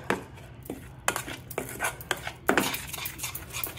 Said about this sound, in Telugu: ఇలా పొడిని బాగా కలిపేసుకోవాలండి.